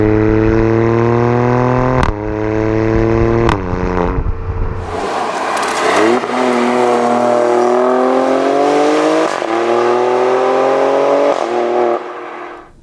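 Exhaust of a 2018 Alfa Romeo Stelvio Quadrifoglio SUV in race mode with valves open, loud and close, a steady engine drone broken by sharp revs and gear shifts, then rising accelerating pulls with crackling overrun.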